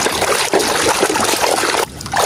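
Water trickles and splashes while toy cars, including a yellow one, are rinsed clean, a close, busy dribbling sound broken by short pauses.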